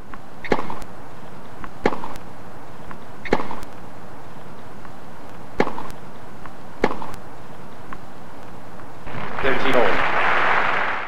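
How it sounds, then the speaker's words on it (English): A PS1 tennis video game produces sharp, evenly spaced ball strikes, followed by a swelling burst of polite crowd applause near the end. "the rest of the game is just tennis sounds and polite crowd noise, which, to its credit, is what tennis sounds like"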